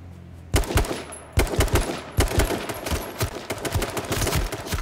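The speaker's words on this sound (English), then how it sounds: "He's just firing off shots now." Rapid bursts of video game gunfire crack out in a battle royale match, dense clustered shots starting after a brief quiet and continuing in uneven volleys, loud and close with no talking.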